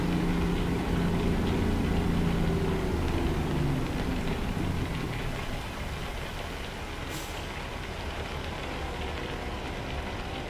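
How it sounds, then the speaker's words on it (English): Steady heavy rain in a truck-driving video game hissing over a low rumble, with a brief hiss burst partway through; continuous and fairly loud, no voices. "Even though it seems like it's raining hard"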